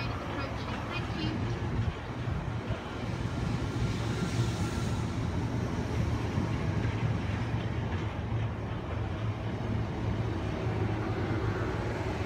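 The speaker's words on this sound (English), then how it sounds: "Please stand behind the yellow line as the train is approaching" A South Western Railway class 456 and 455 electric train rolls steadily into Kingston station, its low rumble and faint clatter continuous throughout, with indistinct voices in the background.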